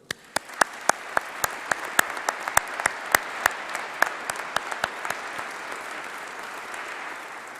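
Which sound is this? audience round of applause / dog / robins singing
audience round of applause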